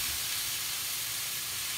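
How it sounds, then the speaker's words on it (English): A steady, bright sizzle of sweet potatoes frying in a hot cast iron pan, a constant crackling hiss heard up close with no talking. "I'm going to let the sweet potatoes kind of sizzle up in here"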